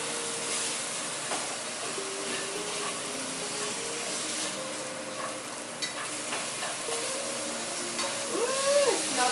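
Beef sizzling and frying in a hot pan for Korean japchae stir-fried clear noodles, with steady broadband frying hiss and intermittent scraping stir strokes throughout, close and fairly loud, no talk.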